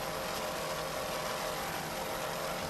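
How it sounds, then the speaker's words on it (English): Offshore racing powerboat engines, the Rip and Tear boat in a 1993 offshore race, roar in a steady, broadband drone that holds without a break and sits moderately distant. "those engines sound excellent"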